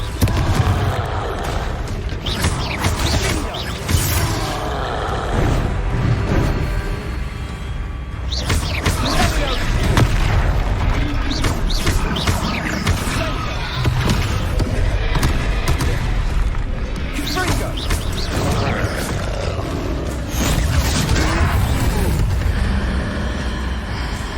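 The Confringo explosion spell in Hogwarts Legacy sets off heavy booms and crashing impacts in a loud, busy troll battle, with voices talking throughout.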